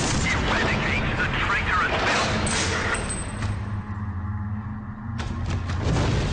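Explosions in the Warhammer 40k Space Marine video game boom and crackle amid a dense battle din, loud bursts thinning into a lull before another blast, with a voice talking over the action.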